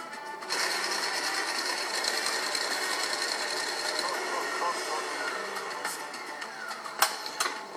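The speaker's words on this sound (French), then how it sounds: "Je vais démarrer à monter les blancs." An electric mixer whips egg whites with sugar, giving a continuous high, bright whir close by that runs steadily, with a few sharp clicks near the end.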